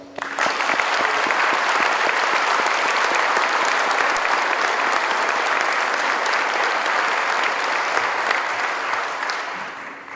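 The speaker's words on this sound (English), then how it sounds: "I'd like to give them a round of applause" Sustained applause from an audience at a correctional officer graduation ceremony, a dense, even roar of many hands clapping that holds steady for about ten seconds before easing slightly at the end.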